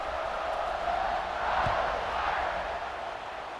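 Steady, distant stadium crowd roar in the video game EA Sports College Football 26, a broad wash of noise that swells slightly midway, with no clear voices standing out.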